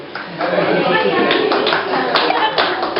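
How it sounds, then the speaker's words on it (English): Wedding guests applaud during the father of the bride's speech, a loud, steady burst of many hands clapping that fills the whole stretch without letting up. "You don't need to applaud, really."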